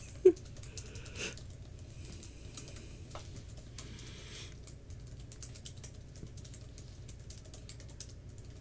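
Quiet, rapid clicking of a computer keyboard during a typing test, steady keystrokes at close range over a faint background hum, with a brief sharp bump near the start.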